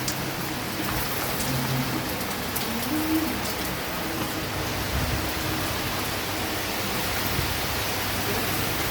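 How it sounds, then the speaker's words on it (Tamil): Steady, dense hiss of heavy rainfall with strong wind in Maduravoyal, Chennai, pours continuously, with a faint bird call buried underneath. "சுற்றி சுற்றி அடிக்குது வெறும் மழை,"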